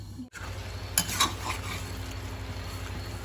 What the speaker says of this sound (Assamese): এনেকৈ মাজে মাজে লৰাই থাকিব লাগিব।